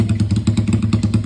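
A Honda CB motorcycle engine runs close and loud with a steady, lumpy idle pulse, rough low thumps repeating several times a second, with no other sounds.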